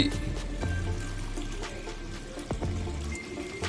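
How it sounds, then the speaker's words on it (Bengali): Water is poured into a pot of pulao, a steady close splashing and gurgling over a low background hum, with a couple of sharp knocks. "এক কাপ পরিমাণ জল আমি অ্যাড করলাম"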